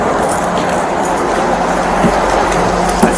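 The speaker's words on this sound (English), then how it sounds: "That's a big ass train." A large train passes close by as a steady, loud rumbling roar with faint rail clatter throughout.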